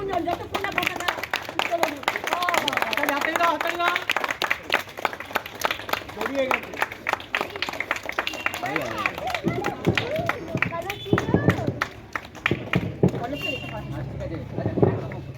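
Audience clapping at an outdoor Netaji birth anniversary flag-hoisting event, a scattered crowd applause mixed with voices and shouting throughout.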